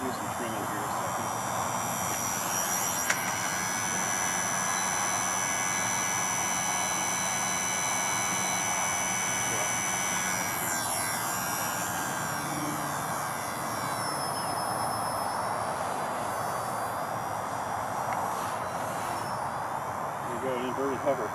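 A small XK K110 six-channel brushless RC helicopter buzzes steadily overhead with a thin high-pitched whine throughout, while a person talks over it.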